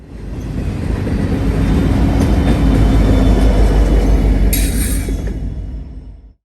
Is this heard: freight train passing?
yes